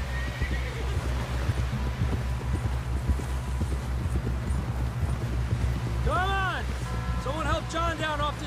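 Horses galloping in the Red Dead Redemption 2 video game: rapid hoofbeats under a low rumble, with a couple of clear neighs and whinnies toward the end and voices faintly in the mix.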